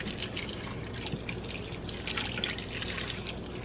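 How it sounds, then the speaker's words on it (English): Water pours steadily into a crockpot for ham and beans, a continuous close trickling and splashing with no talk. "Now, I'm going to add some water."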